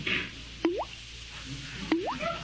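A dripping faucet lets fall two distinct drops a little over a second apart. Each lands as a clear, resonant plop against a quiet background.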